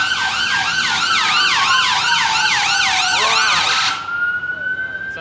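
An ambulance siren wails loudly in a repeating up-and-down pattern as the vehicle passes close by on a London street beside a busy ambulance station, then cuts off abruptly near the end, leaving traffic hum.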